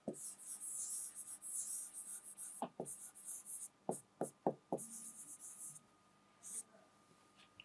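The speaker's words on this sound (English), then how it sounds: "I will write here, observe carefully." A teacher writes on a board during a Class 10 science lesson on respiration. Quiet scratchy strokes come in several bursts, with a few sharp taps as the writing stops and starts, and no speech.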